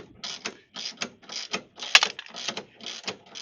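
Puller working a trailer bearing off a 1 inch axle shaft: a run of evenly spaced ratcheting clicks and metallic turns, close and clear, with one sharper snap midway.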